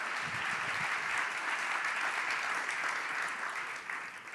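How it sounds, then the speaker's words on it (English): Audience applause after a startup pitch at the TechChill Riga founders stage, a dense, even wash of many hands clapping, heard from a slight distance at moderate level and easing off a little near the end. "Give it up for Spotwise"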